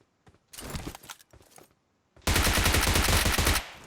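Gunfire in the PUBG Mobile shooter game: a few scattered early shots, then a sustained, loud burst of rapid automatic fire lasting over a second before cutting off.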